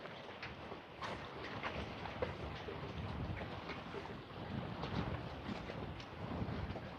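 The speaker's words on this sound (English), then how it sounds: "The wind picked up." Strong wind blows outdoors in central Minnesota as a storm develops, a continuous rough rushing roar with buffeting gusts against the microphone.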